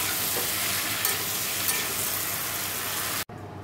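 Tomato, chili, bottle gourd and potato fry with radhuni seeds in a pan, giving a loud, steady sizzle with stirring scrapes. It cuts off abruptly near the end and a quieter hiss continues.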